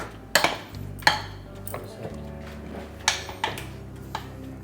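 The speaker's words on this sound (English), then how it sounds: "And then we will mix it." A utensil scrapes and knocks against a bowl while cake batter with chocolate chips is mixed by hand, giving a few sharp taps spaced irregularly over a low background hum, close by, with no talking.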